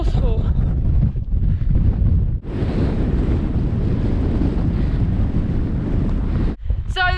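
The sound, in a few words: strong wind on a mountain ridge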